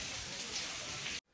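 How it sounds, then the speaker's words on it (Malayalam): Heavy rain falls at the Thanjavur Brihadeeswarar temple as a dense, even hiss that holds steady for over a second before cutting off abruptly. "നല്ല മഴയാണ്, നല്ലൊരു ഫോട്ടോ പോലും കിട്ടിയില്ല."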